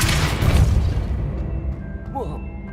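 The Depulso spell goes off in Hogwarts Legacy with a loud, booming magical blast that fades into a rumbling tail, followed by a few faint chiming game effects.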